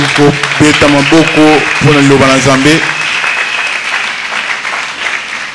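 A church congregation applauds loudly, with sustained dense clapping throughout and voices or shouting mixed into the first few seconds.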